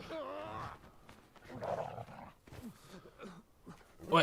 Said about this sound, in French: C'est un chien qui veut jouer avec son maître.